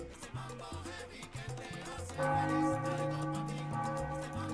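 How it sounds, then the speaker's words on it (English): Loud, intense bell sound effect from the video game Tropico 4: dense clanging tolls that swell partway through into a sustained ringing wash, with no talking. "I recall I used to have a mod which reduced the volume of those bells because they're a bit intense."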